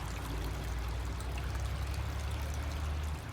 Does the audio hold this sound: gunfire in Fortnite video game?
no